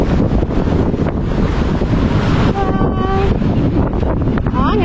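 Strong sea current surging where seawater flows into a channel, a steady loud rush of water and wind buffeting close to the microphone, with a brief voice partway through.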